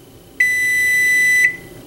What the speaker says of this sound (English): All right, the timer is up on the rice.